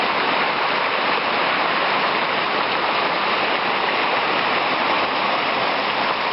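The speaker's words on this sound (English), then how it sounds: "He's just sort of having a bit of a look around and splashing through the water." A Border Collie splashes and wades through water outdoors, giving a steady, loud broadband rush of churning water that runs unbroken throughout.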